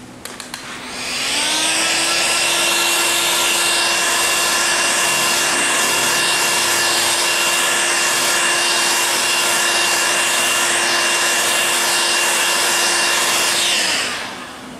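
A heat dryer curing freshly screen-printed ink on a t-shirt gives a loud, steady whirring blow with a constant hum. It starts about a second in, runs evenly for roughly twelve seconds, then cuts off.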